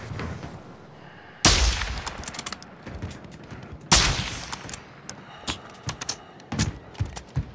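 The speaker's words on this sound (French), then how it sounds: "Bah heureusement c'est un fusil à pompe quoi." Shotgun blasts in the video game Warzone 3: two loud, sharp booms a few seconds apart, followed by a scatter of quieter shots and impacts.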